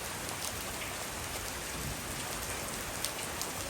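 Sudden heavy rain pours down on a street, a dense, steady hiss of drops hitting the surfaces close by, with no voices over it.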